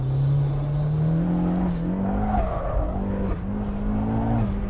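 A turbocharged Mazda Miata, a small front-engine rear-drive car, is driven hard on a track. Its engine drones steadily and loudly, pitch rising and dipping through gear changes, with faint tyre noise and no voices.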